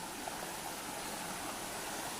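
A steady, soft rush of flowing river water near a waterfall in Atimonan, Quezon, continuous and unbroken, with no voices.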